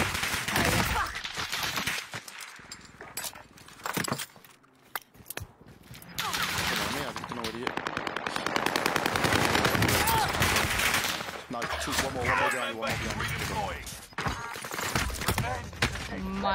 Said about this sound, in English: I'm getting shot by everybody.